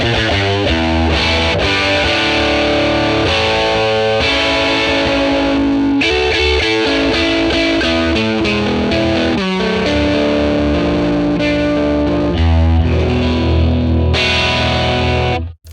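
Electric guitar played through a dimed Fender 1957 Tweed Bassman ToneX amp model, loud and thickly distorted, with sustained chords and choppy strummed riffs continuing for the whole stretch without any voices.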